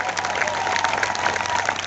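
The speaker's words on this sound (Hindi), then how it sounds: "एक बार जोरदार तालियां।" Loud, sustained applause from a large audience at a motivational business seminar, dense clapping filling the hall steadily with some crowd noise mixed in.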